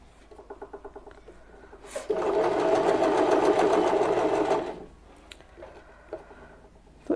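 A sewing machine stitching a small quilted bed runs in one steady, buzzing burst of about three seconds, close and clear, framed by slower clicking of the mechanism before and after.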